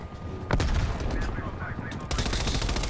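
Rapid automatic gunfire in the video game Call of Duty Black Ops Cold War, a burst of sharp repeated shots followed by another volley, fairly close and loud.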